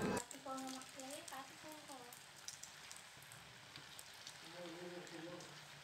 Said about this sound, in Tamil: இப்போ நம்ம ரெடி பண்ண குர்குரே எல்லாத்தையுமே ரொம்ப ரொம்ப ஸ்லோவாக போட்டு நம்ம ஃப்ரை பண்ணிக்கலாம்